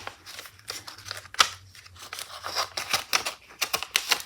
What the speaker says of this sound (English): I'll go ahead and cut this package open.